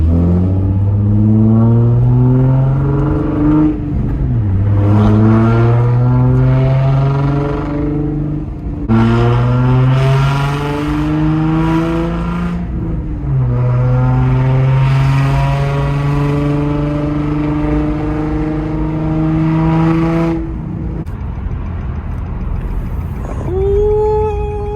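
Nissan 370Z with a muffler delete passing by, loud raw exhaust climbing through several rising pulls with shifts between them, then fading as the car moves away.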